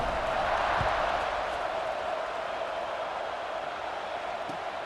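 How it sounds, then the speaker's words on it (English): Stadium crowd in EA Sports College Football 26 keeps up a dense, steady roar after a score, a continuous wash of distant voices with no distinct words rising out of it. "this crowd is buzzing after that last score"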